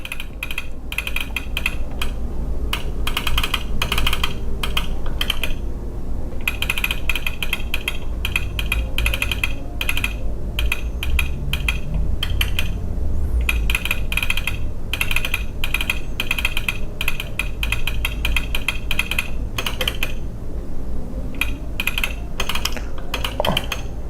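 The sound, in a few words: typing on a computer keyboard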